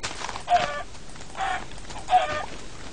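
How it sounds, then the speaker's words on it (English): Three short bursts of chicken clucking from a blocky survival video game, evenly spaced about a second apart, fairly faint against a quiet background. "Guess I'll have to risk my life and kill some of these chickens."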